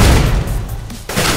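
A flashbang grenade goes off in Counter-Strike: Global Offensive as a loud, broadband blast that decays briefly before a second harsh burst, heard alone without talk.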